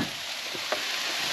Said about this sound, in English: Meatballs are frying away.